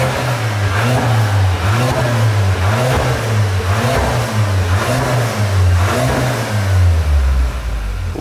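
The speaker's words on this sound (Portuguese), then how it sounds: "E parece que já tá com escape esportivo também, então vamos ouvir o ronco?" A Volkswagen Jetta fitted with a sport exhaust revs repeatedly in a loud, deep, rhythmic series of throttle blips, close by and with no talk over it.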